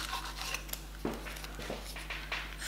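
Knife or scissors cutting through the end of pastry for a mincemeat and cranberry plait, giving soft close scraping and snipping strokes with a couple of sharper cuts, no talking.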